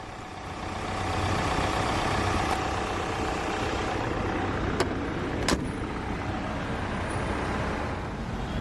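A 2019 Range Rover Sport SD4 with a 2-litre turbocharged diesel idles steadily at close range, a continuous low rumble with a few brief sharp clicks partway through.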